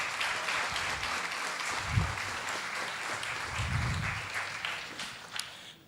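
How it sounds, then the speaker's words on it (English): Crowd applause at a pitch night awards event, a steady wash of many hands clapping heard from within the audience, lasting throughout. "Let's give them a hand clap again."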